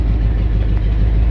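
An old car engine idling with an exhaust leak, a loud, close, steady low rumble with an even rhythmic chug and no voices over it.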